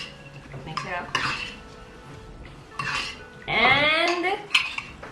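A spoon clinks and scrapes around a bowl while a green mixture is stirred for a frozen Oreo cake dessert, irregular close clatter that grows louder toward the end, no talking.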